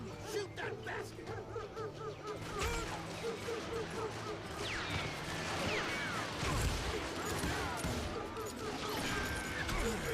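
Gunfire crackles through a Wild West shootout in Call of Juarez Gunslinger, scattered shots and impacts layered over a busy battle din at moderate level, with shouting voices mixed in.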